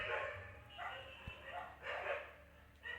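Several dogs bark in bursts nearby, their yips and woofs rising and falling over a few seconds with a brief thump partway through, no talk during the barking.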